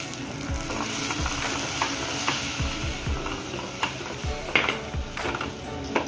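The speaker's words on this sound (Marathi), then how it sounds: "आता उकळे आले, आता आपण पीठ घालून घेऊया." Rice flour stirred into boiling water in a pot for ukadiche modak, with repeated scraping strokes of a spoon against the metal over a low bubbling hiss, no voices.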